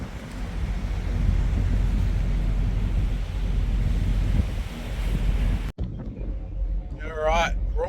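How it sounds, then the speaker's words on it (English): Strong wind roars across the open deck of a cargo ship on the Yangtze River, a loud, continuous rush of buffeting gusts that cuts out abruptly near the end. A brief voice follows over lighter noise. "and winds are picked up too"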